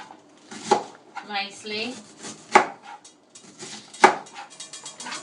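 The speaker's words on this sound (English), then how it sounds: "I'm going to chop the vegetables I wanted to add to the jollof rice and sideline" A knife chops white cabbage on a board in a few sharp, separate strikes, close and clear, with someone talking between and over the cuts.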